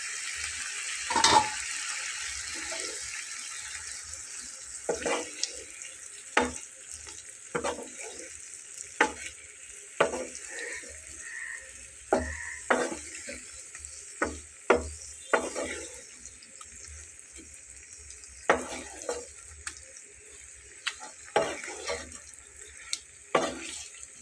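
Pieces of beef liver are stir-fried in a pan: a steady hiss of frying runs throughout, broken by repeated sharp scrapes and clacks of a spatula stirring, close and distinct with no talking.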